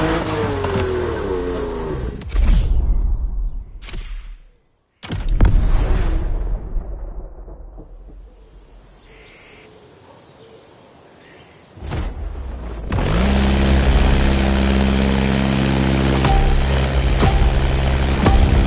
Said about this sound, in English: Your first plane is ready for takeoff. The Beechcraft Model 17 Staggerwing.